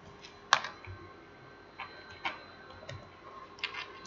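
Scattered, sparse clicks of typing on a computer keyboard, a few isolated taps with pauses between them, fairly faint over a quiet room hum.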